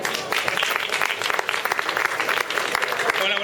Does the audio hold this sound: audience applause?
yes